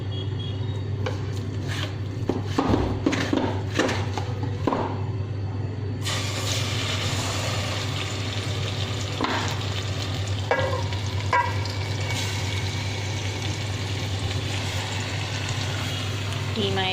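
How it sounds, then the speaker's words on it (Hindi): Minced meat sizzling in about five spoons of cooking oil in a pot, a steady frying hiss with stirring and scraping clatter, spoon knocks early on, under a constant low hum. "अब हम इसमें कीमा ऐड करेंगे।"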